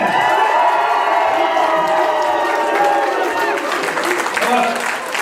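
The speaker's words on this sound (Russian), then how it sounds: "аплодисменты!" Crowd applause and cheering at a flash mob dance battle during a festive gathering, loud and sustained, with whoops and shouting mixed into dense clapping.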